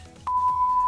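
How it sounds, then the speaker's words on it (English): A phone rings with a steady electronic tone that starts a quarter-second in and holds on, loud and alone over faint room noise during a Minecraft Bed Wars session. "Some weird phone number's calling me."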